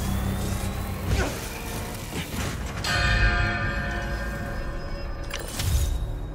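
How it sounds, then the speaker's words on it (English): In Marvel's Spider-Man 2, a recreation of Kraven's bell rings out, with several bell-like clangs with long metallic decay over city traffic rumble. Strikes are spaced a second or two apart and vary in loudness. "Gotta recreate the sound of Craven's bell."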